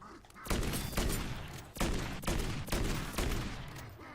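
Rapid bursts of gunfire hit zombies in the video game MW3 Zombies, about six loud, close volleys in a steady rhythm.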